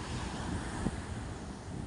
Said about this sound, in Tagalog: Ayan, ayan, inaabot tayo ng alon.